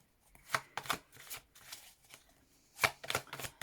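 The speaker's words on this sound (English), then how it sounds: "I'm going to shuffle the deck again" Close, quiet tarot card shuffling in a series of brisk riffling bursts separated by short pauses, with no talking.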